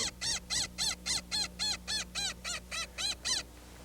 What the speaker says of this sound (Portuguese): Esse é o periquito.